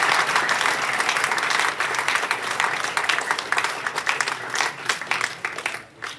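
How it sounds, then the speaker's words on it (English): Sustained audience applause fills a hall at an annual general meeting and awards presentation, dense steady clapping from many hands that carries on for several seconds before easing slightly at the end. "If we can have a round of applause for the"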